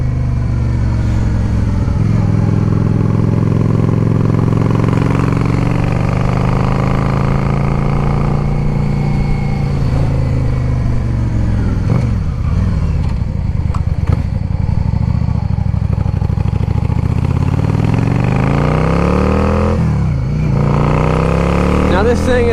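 A 2010 Yamaha V Star 650 motorcycle engine running on a test ride, a loud continuous low drone that rises and falls with throttle changes, with wind noise and a voice talking over it.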